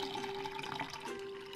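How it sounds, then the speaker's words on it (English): Milk pours into a pot in the Milkmaid of the Milky Way video game, a short burbling liquid stream with a sustained tonal hum from game music underneath. "So we pour the milk"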